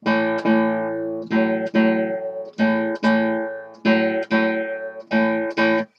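Guitar chords strummed in a repeating uneven pattern, a short stroke followed by a longer ringing one, played alone with no talking.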